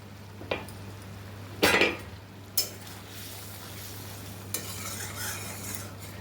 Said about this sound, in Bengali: এবার একটু ভালো করে কষে নেবো, একটু নেড়ে চেড়ে এটা একটু কষে নেবো বন্ধুরা।